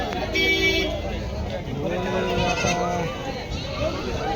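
Goats bleating repeatedly at a busy goat and sheep market, several loud nearby calls rising and falling over a constant crowd babble, with people talking throughout.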